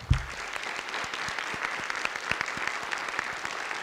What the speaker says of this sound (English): Let's give another round of applause to all of these winners.